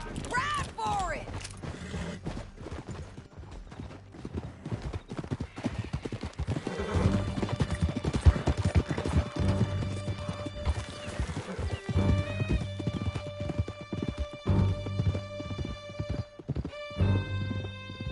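Horses gallop in a Red Dead Redemption 2 chase through a canyon, a loud, steady clip-clop of hooves with neighing and whinnies, overlaid by voices talking and a rising musical score.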